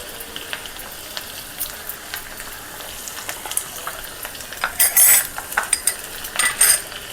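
Onion and garlic frying in oil with mustard seeds, a soft continuous sizzle with scattered utensil clinks and a couple of louder spattering bursts toward the end.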